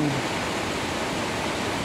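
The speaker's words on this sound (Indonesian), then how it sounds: "terlihat bahwa air terjun ini terlihat bagian bawahnya seolah-olah mengepul" Curug Ngebul waterfall, where the spray at the base rises like steam, heard as a steady, dense roar of falling water that fills the short stretch evenly and loudly without change.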